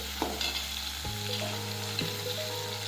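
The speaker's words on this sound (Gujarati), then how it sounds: "હવે એકદમ સરસ તળી ગયું છે" Continuous hiss of something frying in oil, close and even, with a faint tone humming beneath and occasional soft stirring scrapes.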